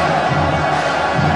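Fans pack the stands at a 2006 Taça Brasil futsal semifinal, ABC against Joinville, in the Machadinho gym. A loud, unbroken roar of cheering rolls on with a steady drum beat pulsing beneath it.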